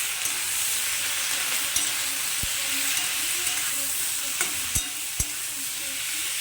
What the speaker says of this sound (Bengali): তো এটাকে আমি আপনার একটু ভালো করে মিশিয়ে নেবো